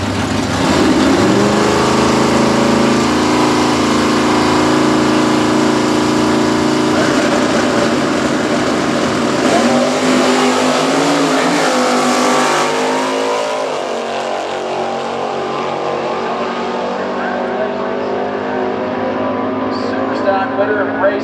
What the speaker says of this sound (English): Larry Miller, 70 CUDA 440. Jen Super G automatic, dialed in at 986